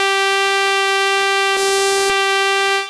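A bright, sustained synth lead shaped with EQ into a thin, buzzy, horn-like tone, holding one steady pitch for about three seconds at constant loudness with no voice over it.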